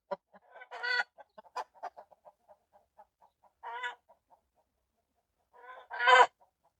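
Ducks in their duck house give scattered short quacks and clucky calls, soft and fairly close, in a few brief bursts separated by quiet gaps, with no voices.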